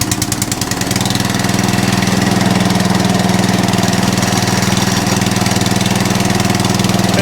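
An Atco Balmoral reel lawn mower engine catches with rapid pulses, then settles into a loud, steady, close-up running drone with no talking.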